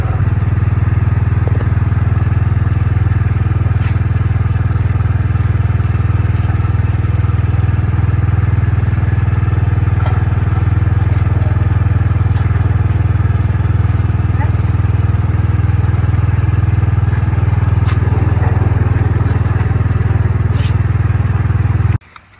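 A large motorcycle engine runs steadily at a loud, constant drone with some clatter on a hot day, filling the whole stretch up close without pause.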